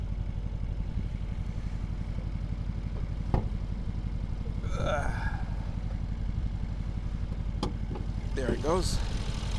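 A car engine turns over and settles into a steady, rumbling idle close by, with a low, even pulsing throughout and a few clicks and brief voices over it.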